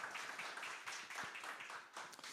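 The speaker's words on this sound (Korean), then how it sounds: "큰 박수로 맞아주시기 바랍니다." An audience at a Korean launch ceremony for a Samsung youth-support program claps to welcome a speaker, a dense patter of many hands that stays steady and moderately loud for a couple of seconds.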